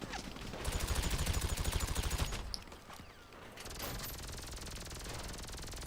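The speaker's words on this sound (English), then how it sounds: "Stop with the shotgun kills." Rapid gunfire bursts from shotgun blasts in the online mode of the video game GTA 5, a dense rhythmic volley for about two seconds, then a brief lull and a steady noisy wash of continued game action.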